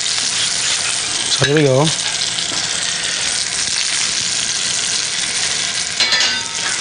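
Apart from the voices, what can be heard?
lamb searing on the stovetop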